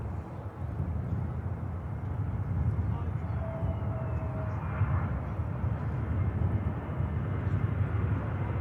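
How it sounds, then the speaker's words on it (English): A British Airways Airbus Neo airliner touches down at Manchester Airport, a distant, steady low rumble of engines and rolling noise with a faint whine, continuous throughout. "Neo touching down."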